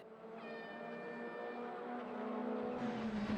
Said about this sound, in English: Dulcet tones of the F4 motor.